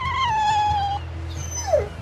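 A dog in the role-playing game Tales of Berseria lets out a long, whining whimper over a low background hum, then trails off into a short, rising whine near the end.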